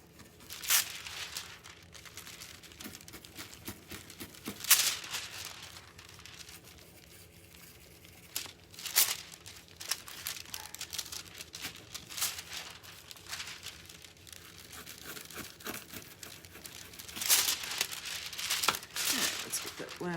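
A sheet of crafting foil is handled and turned, giving soft, intermittent crinkles and sharper crackling bursts at irregular intervals against a quiet background.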